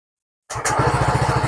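Honda Fazzio scooter with a throttle position sensor fault cranking and catching after silence, then settling into a close, loud, rapidly pulsing idle.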